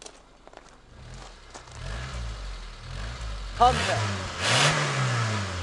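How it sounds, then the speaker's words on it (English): A Suzuki Samurai 1300 engine revs up in a few rising bursts, climbing to a loud high-pitched peak near the end, with voices talking over the idle at the start. "Rev it gently now."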